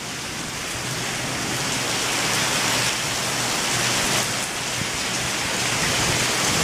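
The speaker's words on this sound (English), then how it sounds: "But this is quite a storm." Heavy rain pours steadily during a thunderstorm at a campsite in Ludington State Park, a dense, constant hiss of drops drumming on a roof overhead with no pauses.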